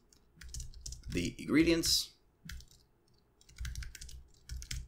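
Computer keyboard keystrokes while writing Python code, coming as quick, close bursts of light clicking at the start and end, with someone speaking over the middle stretch.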